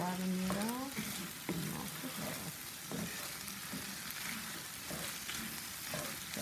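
Onions, peppers and celery sauté in a pan with a continuous close sizzle, punctuated by several scraping stirs and utensil knocks, and a brief voice at the start.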